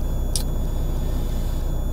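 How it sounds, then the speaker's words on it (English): A Volvo truck's engine rumbles low and steady from inside the cab, with one brief high click early on. "I'm in a truck today, Volvo."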